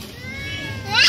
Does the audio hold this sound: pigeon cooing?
no